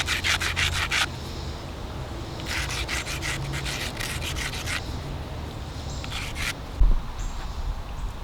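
Close, steady rasping strokes as an antler flintknapping tool is ground on an abrasive, arriving in bursts of several quick back-and-forth passes separated by pauses, ending with a single sharp knock.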